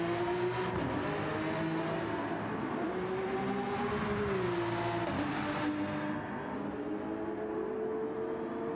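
Race car in Gran Turismo 7 on an endurance race at Spa-Francorchamps: one continuous engine note held loud and close, its pitch gently rising and dipping through a corner, then easing slightly near the end.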